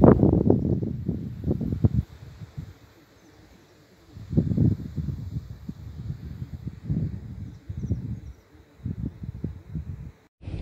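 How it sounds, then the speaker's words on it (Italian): Gusty wind buffets the microphone in bursts on a remote stretch of the west coast of Sardinia, with the sea nearby, rising and dropping in uneven waves with brief lulls. "C'è un po' di vento."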